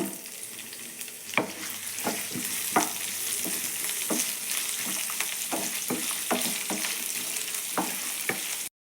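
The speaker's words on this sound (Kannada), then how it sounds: "ಲವಂಗ ಚಕ್ಕೆ ಮೆಣಸಿನ್ಕಾಯಿ ಸ್ವಲ್ಪ ಲೈಟಾಗಿ ಫ್ರೈ ಮಾಡ್ಕೊಳ್ಳೋಣ ಈರುಳ್ಳಿ" Cloves, cinnamon, chillies and onion frying in hot oil in a pan, a close steady sizzle broken by repeated scraping stir strokes at an uneven rhythm.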